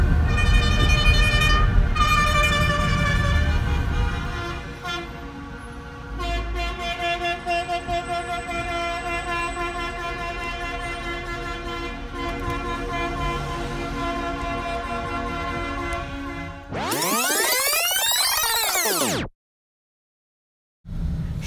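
A street parade of trucks and cars in Montreal blares a dense, sustained chorus of overlapping car and truck horns, loud and close, with a sharp air-horn sweep near the end before a sudden cut.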